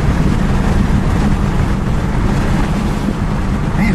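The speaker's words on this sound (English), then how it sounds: "Man, it's windy, isn't it?" Steady, roaring wind buffets the microphone beside a 1960 Ford Thunderbird hardtop, a constant low rumble with rushing noise throughout and no break.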